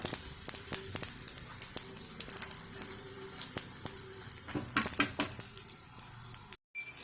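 An evening tiffin snack, turned over to coat it lightly in oil, fries in a pan with a loud, continuous close sizzle, occasional light clatter, and a momentary drop to silence near the end.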